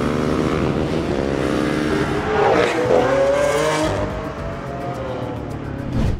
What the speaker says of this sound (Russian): звук у нас не от Авентадора, а от Хуракана